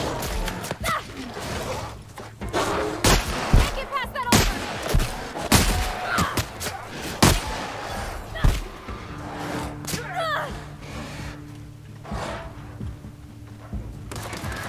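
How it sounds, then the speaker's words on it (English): Shotgun blasts from The Outer Worlds combat, several loud sharp booms spaced irregularly among thuds and game effects, with a voice speaking at times over the fight. "Wow, the shotgun really works, doesn't it?"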